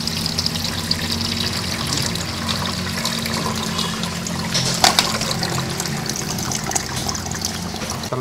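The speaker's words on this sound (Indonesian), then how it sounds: "kita tuangkan ke sini agar airnya lolos ke bawah, lalu SIM cardnya maka akan tertahan" Water is poured through a strainer while used SIM cards are held back. It makes a steady, close splashing and trickling that runs without a break for several seconds.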